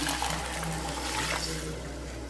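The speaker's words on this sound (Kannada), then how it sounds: "ನೀರು ಹಾಕ್ತಾ ಇದ್ದೀನಿ" Water pours into a pressure cooker holding rice for a short, soft trickling splash, heard close over a low steady hum, with no talking.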